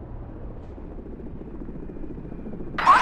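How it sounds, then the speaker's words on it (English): A helicopter-like aircraft in the Crysis multiplayer battle drones steadily with a low rotor throb, holding at a constant loud level before a brief brighter burst at the very end; no one talks. "Aircraft spotted!"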